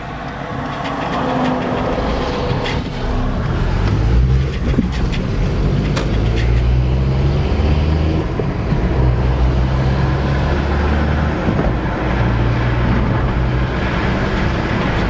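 A Volkswagen Polo Mk4 9N driving on a road, heard from inside as a loud, steady low engine and road rumble with a droning hum that rises and falls.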